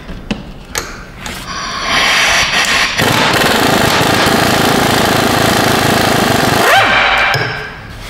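An air impact gun hammers a wheel bearing bolt on a Hyundai Santa Fe rear wheel, a few short bursts giving way to a loud sustained rattling run of several seconds that winds down at the end.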